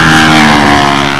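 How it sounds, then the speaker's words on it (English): A model airplane engine with a tuned pipe runs at a windy fall contest, giving a loud, steady, buzzing whine with strong harmonics that holds unbroken through the whole short stretch. "Look at that plane wiggle and wobble."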